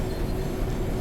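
A rail head treatment train on the Birmingham Cross City line in a train simulator game rumbles steadily while braking, a dense continuous mechanical drone with a faint tonal hum.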